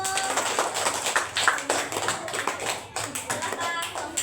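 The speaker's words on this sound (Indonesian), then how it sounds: "tepuk tangan buat kelompok 1." Classroom applause after a group's answer, a dense run of many hands clapping steadily for about four seconds, fairly loud and close, with some voices mixed in.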